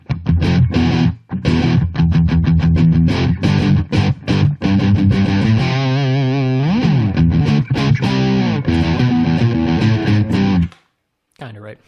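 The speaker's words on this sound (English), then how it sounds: "so here's how it sounds with the distortion side." An electric guitar played through the distortion side of a Boss overdrive/distortion pedal, loud and saturated with crunchy chords and sustained notes, cutting off into near silence at the end.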